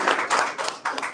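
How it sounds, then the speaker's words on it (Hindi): A church congregation claps loudly during a Sunday evening service, a dense burst of hand claps swelling in several waves across a short stretch, with no voices audible. "तो आइए हम इस समय परमेश्वर के लिए जोरदार ताली बजाते हैं,"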